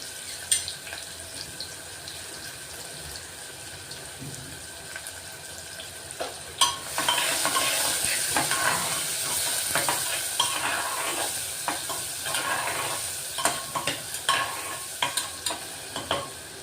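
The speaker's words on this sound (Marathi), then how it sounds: "आता कांदा चांगला लाल करून घेऊ" Onion fries and is stirred in a pan, a soft hiss at first giving way to a louder, steady sizzle with repeated scraping and clattering stirs through the second half, with no voices.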